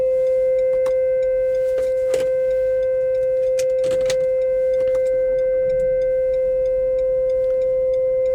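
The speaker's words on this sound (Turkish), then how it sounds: "Stop ettim çalıştırdım halde uğultu geri geldi." Steady electrical hum from a Renault Kadjar with a humming fault, heard just after restarting the engine: a constant tonal drone with overtones running throughout, with occasional light clicks and clatter over it and no talk.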